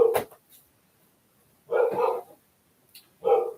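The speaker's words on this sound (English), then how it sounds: "You got sometimes just let them bark it out." A dog barks indoors, a sharp yip followed by two louder barks spaced about a second and a half apart, fairly close, with quiet gaps between.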